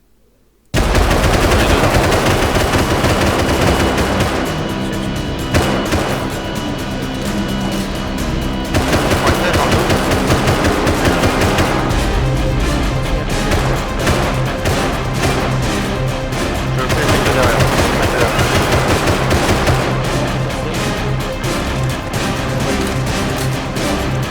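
Sustained gunfire during a Rust game base raid, loud dense bursts of automatic fire and rapid shots layered almost nonstop after a brief quiet start, very close and overwhelming.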